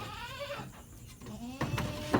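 Goats in a farm pen give a few short bleats close by, mixed with brief rustling and shuffling noises.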